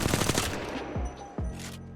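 An R-301 rifle in Apex Legends fires one fast, loud burst of automatic shots, then a few single sharp reports ring out and fade into quieter space.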